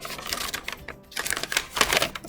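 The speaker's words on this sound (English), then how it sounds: "Use your scissors. And let's get to cutting, okay? I'm actually cutting out" Scissors snipping through paper to cut out craft pieces, a quick series of close, crisp cuts in irregular bursts with a brief pause.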